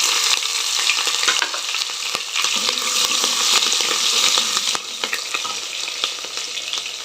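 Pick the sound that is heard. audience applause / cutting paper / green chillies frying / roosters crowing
green chillies frying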